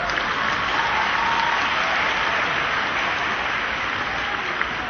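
A congregation applauds during an Easter sermon in a church, a continuous, even wash of clapping from many hands with no talk over it.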